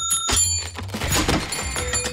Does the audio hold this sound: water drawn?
no